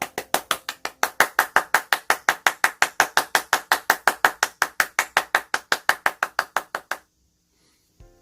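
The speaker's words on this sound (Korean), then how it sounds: "우리 멀리 떨어져 있지만 있는 자리에서 힘차게 박수를 쳐줍시다." Clapping to celebrate children's birthdays at a church children's service: a lone, close pair of hands beating a fast, even rhythm of about thirty sharp claps, then stopping abruptly into silence.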